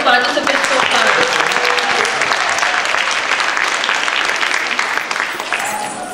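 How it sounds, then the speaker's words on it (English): Audience at a cultural dance performance event applauds the participants with steady, dense clapping that swells then tapers slightly near the end, with some crowd voices mixed underneath. "how about a big round of applause for all the participants so far?"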